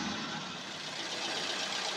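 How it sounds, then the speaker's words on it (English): Nissan B15 engine idling steadily after a P1320 ignition primary signal fault is cleared, giving a smooth, even hum with no misfire, heard close and continuous without any talk. "So right now the engine is running smooth, no misfire."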